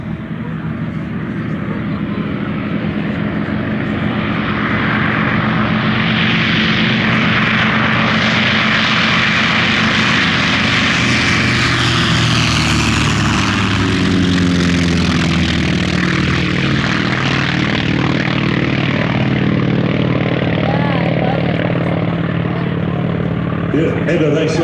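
A warbird with a 1,425-horsepower 1820 nine-cylinder radial engine flies past at the Warbirds Over Wanaka airshow in 2024. The loud propeller drone swells steadily and peaks near the middle, then its pitch drops and it fades away.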